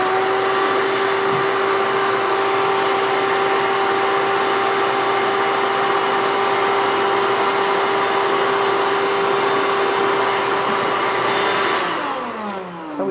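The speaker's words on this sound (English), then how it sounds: "I'll just vacuum it out" Vacuum cleaner sucking dust out of a TiltGrind cremulator, a loud steady whine with a strong tonal hum that runs continuously before spinning down at the end.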